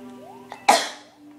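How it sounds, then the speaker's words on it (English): A single sharp sneeze bursts out close to the microphone in the middle of a Mario game session, with faint game music running underneath. "I sneezed."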